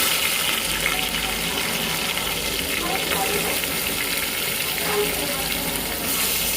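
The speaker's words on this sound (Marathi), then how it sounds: "तेलामध्ये मी आता मस्तपैकी कढीपत्ता टाकून घेणार आहे" Curry leaves fry in hot oil in a pan, making a dense, constant hiss of sizzling that holds at an even level, close to the mic and loud throughout.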